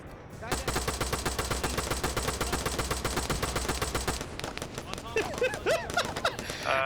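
Rapid automatic gunfire from a military shooter game rattles steadily for about four seconds, then gives way to scattered single shots and clatter, with a voice talking over the action.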